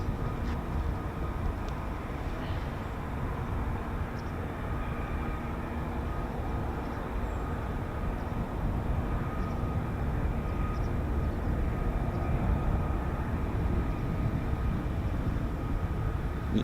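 F-35B stealth jet aerobraking on landing: a steady, broad, distant roar of jet engine noise holds throughout, slightly swelling toward the end, with no talk.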